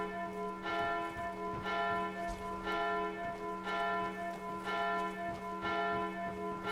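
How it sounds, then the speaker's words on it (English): Town alarm bell rings during an attack in the Skyrim video game, struck in a steady, repeated rhythm of about one stroke per second, somewhat distant and moderately loud over a constant drone, with no talk. "the town's under attack, so they're ringing the alarm bell"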